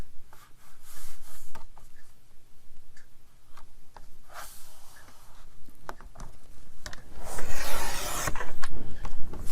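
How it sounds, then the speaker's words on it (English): Utility blade scoring and slicing through cardboard to trim it to height, a steady rubbing, rasping cut with a louder, denser stretch of sawing near the end. "now we're going to cut it to the correct height"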